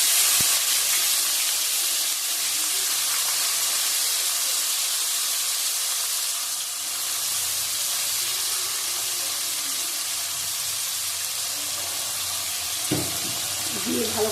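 Onions fry in hot oil in a pan, a continuous, even hiss and sizzle that holds steady throughout with no voices.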